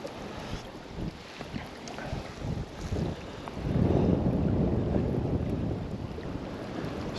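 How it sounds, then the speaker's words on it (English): Steady wind rushes and buffets across the microphone beside the River Tweed on an October salmon fishing day, a continuous roar that swells louder midway with no voices. "The wind's still up a bit, but it's not as bad as it was down there."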